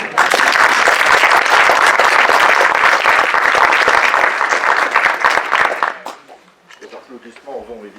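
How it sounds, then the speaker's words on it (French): A loud, dense burst of audience applause at a mathematics lecture, sustained for several seconds before cutting off abruptly, after which a voice speaks. "Les applaudissements vont évidemment au présentateur."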